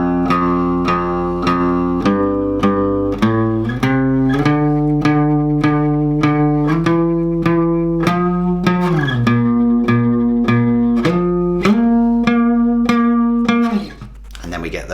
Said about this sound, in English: the lead guitar part that sort of outlines the chord movement in our chorus